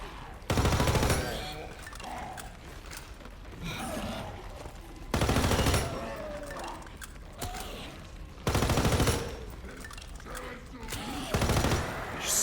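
Automatic gunfire in a zombie-survival video game rips out in four loud, dense bursts spaced a few seconds apart, with quieter game ambience and a voice talking between them.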